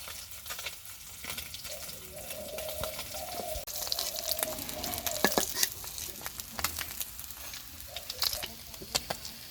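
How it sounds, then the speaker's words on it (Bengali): Tatkuni fish fry in hot oil in a home Bangladeshi kitchen with a steady, close sizzle and crackle and occasional sharp spits, while a faint voice murmurs underneath. "টাটকুনি মাছ আর কিছুক্ষণ হোক ভাজা।"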